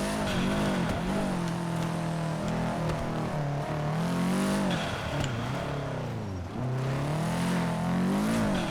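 A Subaru WRX STI-style car in GTA 5 drones continuously, its engine note rising and falling with revs and gear changes, loud and steady throughout.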